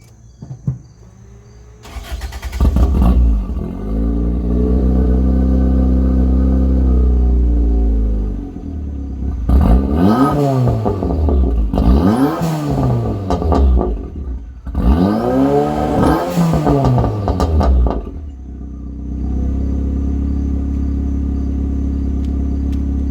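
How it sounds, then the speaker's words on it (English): A tuned car with a 1548 turbo starts and idles loudly, then revs hard in three separate bursts with rising and falling sweeps, popping and gurgling between pulls before it settles back to a deep rumbling idle. "motor sounds huge, and it pops and gurgles"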